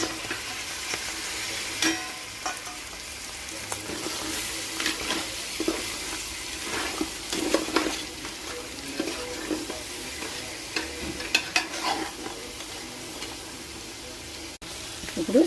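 Crabs fry in a pan for a tangy crab curry, with a continuous moderate sizzle, occasional stirring clatter and faint background voices.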